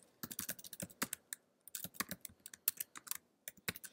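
Someone types on a computer keyboard, producing quiet, close, irregular bursts of clicking key presses with brief pauses, and no voice.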